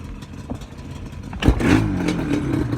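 A dirt bike engine fitted with OEM cylinders and V-Force reeds idles unevenly at first, then rises into a loud, rough revving roar that holds steady close by.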